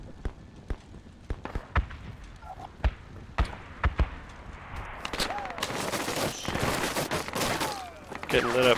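Machine gun fire crackles in the Project Reality video game as sharp, separate bursts of shots over several seconds, followed by denser overlapping combat noise, with radio-style voices talking throughout.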